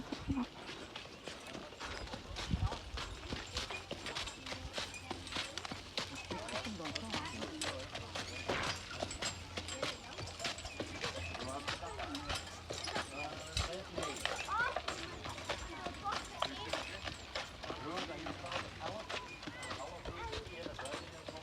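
A horse's hooves clop steadily at walking pace while it pulls a traditional cart, faint under continuous outdoor chatter and crowd noise.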